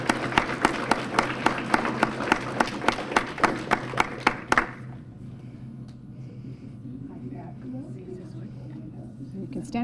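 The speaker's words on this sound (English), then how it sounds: "We'll give you a round of applause now." Audience applause at a volunteer awards ceremony for a nominee: brisk, steady clapping from a room of people for about four and a half seconds, then stopping abruptly, leaving quiet room tone with faint movement.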